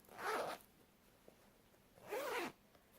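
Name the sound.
zipper of pocket on knitted bag being pulled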